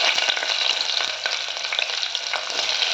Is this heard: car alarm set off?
no